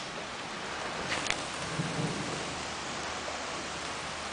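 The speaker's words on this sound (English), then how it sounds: "Starting to rain here." Steady, heavy rain hisses close by as thunder rumbles in the distance, a continuous downpour with no voices, heard during work on a 1966 Pontiac GTO.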